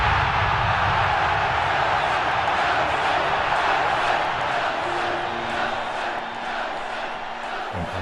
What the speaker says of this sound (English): The crowd just went wild.